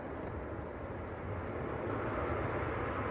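A Jet2 airliner arriving from Malta touches down at Manchester Airport, heard as a broad, distant engine roar and rumble that swells slightly louder toward the end, with no speech.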